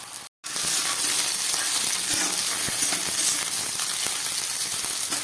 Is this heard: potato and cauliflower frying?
yes